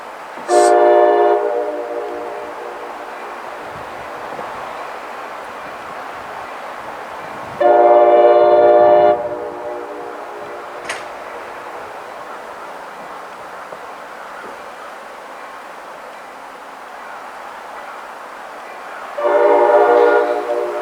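An NYS&W freight train on the Utica branch rumbles steadily past a road crossing while its horn sounds three loud, drawn-out blasts spaced apart, the long middle one carrying over the rolling noise.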